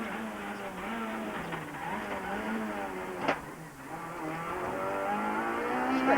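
A Proton rally car in Formula Rally R1 trim runs through the chicanes at the 2001 Rally of Wirral, its engine note rising and falling steadily close by, with a brief sharp knock midway and faint talk underneath.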